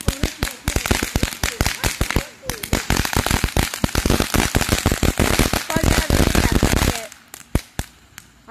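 Fourth of July firecrackers going off outdoors in a dense, rapid string of loud cracks and pops, followed by a few separate bangs, with people talking underneath.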